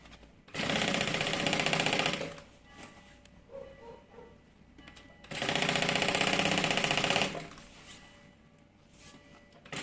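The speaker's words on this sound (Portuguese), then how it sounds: "só fazer uma costura segurando o forro, bem na beiradinha" A sewing machine runs along the edge of a bag lining in two steady bursts of rapid mechanical stitching, each lasting about two seconds, close and loud with quiet handling noise between.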